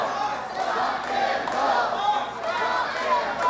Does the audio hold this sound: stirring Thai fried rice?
no